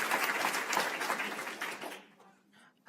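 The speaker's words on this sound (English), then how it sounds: "Let's give her a round of applause." Applause from the audience at a school district board meeting, a dense patter of clapping for about two seconds that thins out and fades to quiet.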